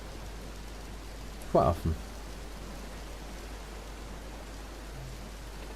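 Steady rain in the Dead Island Riptide video game, falling on a boat in a tropical area, makes a constant soft hiss throughout. A voice speaks briefly over it near the start.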